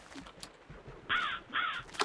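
Crows in Minecraft give two harsh, close caws in quick succession, each loud and about a third of a second long, over quiet background.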